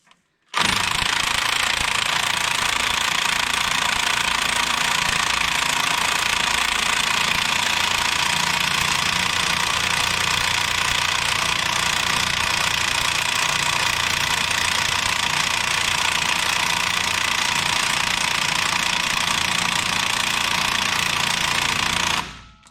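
Impact wrench hammering on a wheel bearing nut, a loud continuous rattling burst that runs nearly twenty seconds without pause and then cuts off, with no voices.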